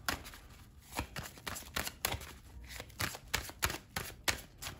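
Tarot cards are shuffled close up in a quiet room, a quick run of crisp, papery riffles and taps repeating in uneven bursts, with no talking.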